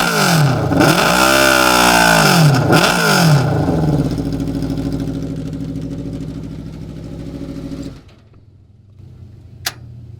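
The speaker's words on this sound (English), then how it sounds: "Come on, giving us some revs, Mr. Jeffrey." A loud engine revs hard twice in quick succession, rising and falling, then settles into a steady high idle before dropping to a quiet rumble.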